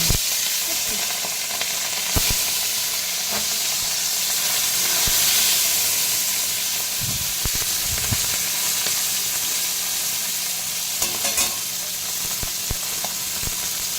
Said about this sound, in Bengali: তেলটা গরম হয়ে গেল আমি পুঁটি মাছ দিয়ে ঢেলে দেবো